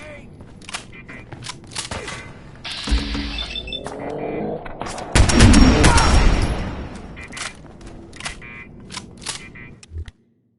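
Gunfire in Fallout 4: bursts of shots and a heavy boom echo amid a chaotic fight, with shouted voices mixed in and the clamor swelling mid-clip before cutting off.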